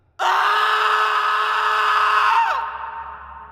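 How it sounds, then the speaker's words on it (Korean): A man's scream used as a sound effect in a Korean Joseon-era horror folktale narration: one loud, sustained, strained cry that holds for about two seconds, then breaks and drops in pitch. "갑자기 비명을 지르기 시작했다"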